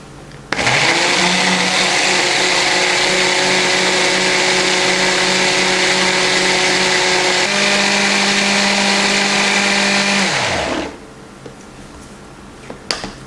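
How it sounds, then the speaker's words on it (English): A kitchen blender purees mango flesh with water, starting abruptly and running as a loud steady whir for about ten seconds, the pitch shifting partway through before it winds down and stops, followed by a few small clicks. "Blend the mango until it becomes a smooth puree."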